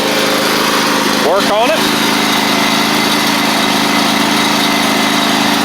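Husqvarna YTH24V48 riding mower with a Briggs V-twin engine runs at a steady loud drone throughout, close by, with a brief voice heard over it partway through.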